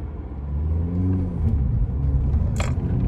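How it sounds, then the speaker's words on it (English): A 2008 Honda Civic Type R engine rumbles and revs up close from inside the car, a low throaty drone rising in pitch and holding steady, with a brief click near the end. "It's effectively a race car engine, this. As you can hear."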